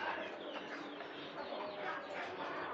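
Native desi chickens on a farm, some roaming free outside, cluck and chatter softly and continuously amid a faint, busy ambient background.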